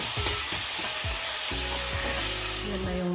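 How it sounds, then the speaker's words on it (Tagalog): Sliced frozen mushrooms fry with white onions in a hot pan, a steady close sizzle with stirring scrapes and a louder burst of crackling as the mushrooms hit the oil midway. "Lagay na natin yung mushroom. Frozen po kasi ito yung na-slice na. Ayan. At lutuin natin yung mushroom."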